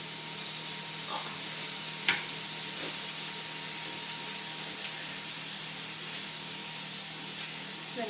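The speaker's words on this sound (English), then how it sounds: "we're going to add 2 tablespoons of butter to our pan" Two tablespoons of butter melting in a hot pan, giving a steady close hiss of sizzling with one sharp clink of the pan near the start, and no talking.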